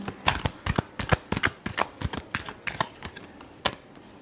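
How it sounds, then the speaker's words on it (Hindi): Tarot cards being shuffled for a love reading, a quick run of crisp riffling snaps and flicks at close range with no voices. "last shuffle"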